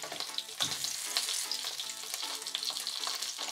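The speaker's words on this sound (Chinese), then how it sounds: "咁啊魚皮嗰邊咧煎咗兩分鐘啦" Salmon pan-fries skin side down in a pan for a teriyaki dish, giving a steady close sizzle and crackle with faint stirring, no voices over it.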